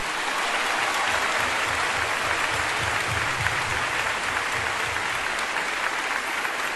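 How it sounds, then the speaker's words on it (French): A church congregation gives loud, sustained applause for a sister at a Bible study service, a dense, even roar of many hands clapping without pause or speech. "Et un applaudissement très fort pour notre sœur Mara-Luisa."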